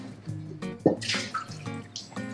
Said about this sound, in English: I need to wash it in the sink